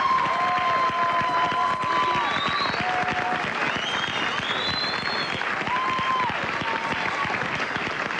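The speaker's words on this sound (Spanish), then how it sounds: "la despedimos con un fuerte aplauso" Sustained audience applause at a televised festival show, a steady, even roar of clapping with a few whistles and cheers mixed through it.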